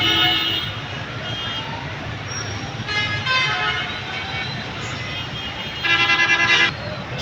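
Jammed road traffic at a Multan intersection after rain, with a low engine rumble and repeated car horn toots, including a longer honk near the end, heard close by.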